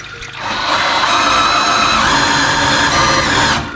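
Engine oil pours from the oil pan of a 1999 BMW 328i E46 in a loud, steady gushing stream that swells in and holds for about three seconds before tapering, with no voices.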